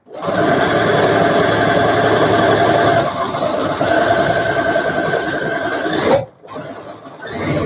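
A sewing machine stitches a fabric mask, running in a steady whirring drone for about six seconds, then halting abruptly before starting again more softly.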